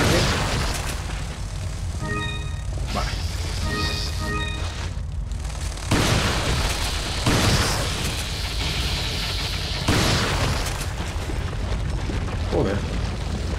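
Gunfire and explosions from the video game Resident Evil 4, played in the mines: loud booming blasts and bursts through the clip, with a few sharp hits standing out over dense continuous game noise, under a player's commentary.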